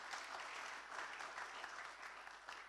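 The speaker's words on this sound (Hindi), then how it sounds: "क्यों ना जोरदार तालियों के द्वारा उनको स्वागत करें।" A church congregation at a Sunday Hindi service claps in welcome for a guest, a dense, steady round of applause heard faintly from a distance.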